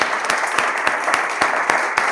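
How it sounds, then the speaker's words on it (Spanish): An audience at a cutlery-craft gathering claps in sparse, separate claps at a loose, steady rhythm, fairly loud and close. "un aplauso muy fuerte"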